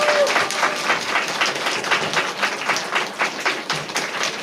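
A church audience at a family-invitation puppet show service applauds to welcome a guest, with sustained, lively clapping from a crowd indoors at steady volume.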